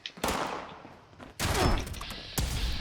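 Energy bursts from a plasma rifle in the Fallout 76 video game, several loud close shots overlapping with game effects, a big blast near the middle and another hit late, with no voices.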